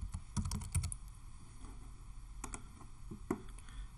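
Quiet typing on a computer keyboard: scattered keystroke clicks come in small bursts and pauses, close by and soft.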